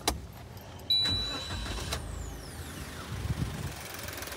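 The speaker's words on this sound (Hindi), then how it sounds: "एक बार मैं आपको सेल मार के दिखाता हूँ कितनी ज़बरदस्त" A Maruti Celerio CNG with a K10-series petrol engine cranks and catches with a sharp start, then settles into a quiet, faint idle.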